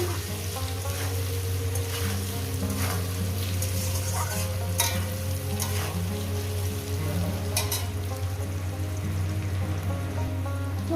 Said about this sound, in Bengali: আলুগুলো আমি ভাজার মধ্যে আমি সব সিদ্ধ করে নিচ্ছি